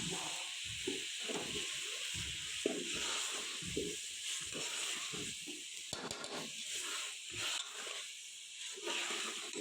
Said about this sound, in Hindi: आलू डाल दूँ।